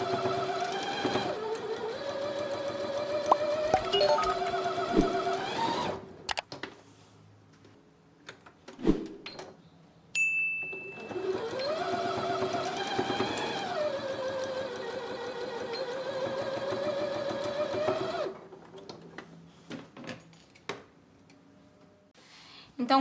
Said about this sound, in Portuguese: Costuro aqui até o final e costuro aqui até o final.